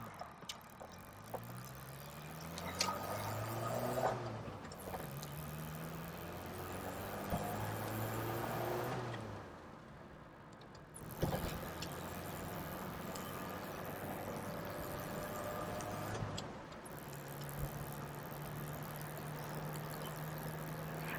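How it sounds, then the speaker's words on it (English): A 1980s Bedford Bambi motorhome pulling away in first and accelerating up through the gears, its small engine droning steadily from inside the cab, rising in pitch then dropping at each of several gear changes, with road noise and no talk. "we're going to set off in first gear, and I'm going to go up through the gearbox so you can hear what it sounds like."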